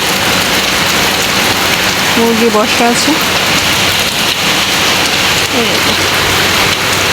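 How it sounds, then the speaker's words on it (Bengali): Steady rain falls on a surface at a rural home with chickens nearby, a dense continuous patter throughout, while a person talks briefly over it partway through. "বৃষ্টি হচ্ছে"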